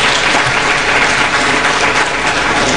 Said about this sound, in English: I think you should clap again for Nigeria.